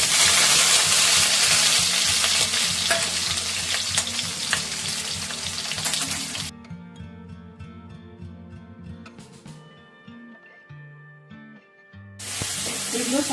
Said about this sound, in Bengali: এগুলো একটু সাদা তেলে সতে করে নেব।